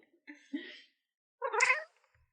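A cat meows twice, a short strained call followed after a pause by a louder, longer meow, close and alone in a quiet room.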